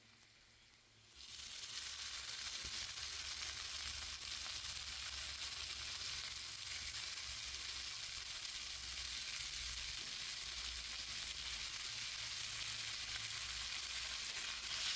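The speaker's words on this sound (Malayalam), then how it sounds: "തക്കാളി നന്നായി മിക്സ് ചെയ്യണേ." Chopped tomato frying in olive oil with browned onions for chickpea chana masala, a loud, steady broadband sizzle that starts abruptly after a second of quiet and continues unbroken, with faint stirring scrapes underneath.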